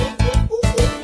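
A person imitating a monkey with a rapid run of about five loud, close 'ooh-ooh' hoots, one voice alone with no other sound.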